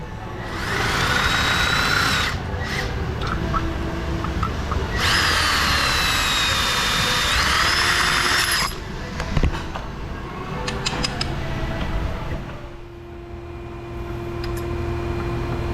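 A power wrench works the bolts on a 2008 Jaguar XJ in a garage, giving two long whirring bursts with rising and falling pitch, then clanks and quieter handling noises.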